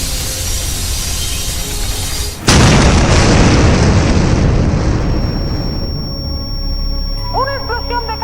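A sudden loud boom of an explosion at a school bursts in after a low rumble, followed by a long roaring decay and debris hiss, with a faint ringing tone and shouts afterward.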